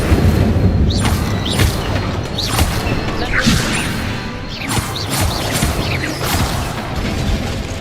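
A fire spell cast in Hogwarts Legacy bursts out as a steady roaring crackle with repeated whooshing flares and crashing impacts across the whole stretch, loud and close, with game music underneath.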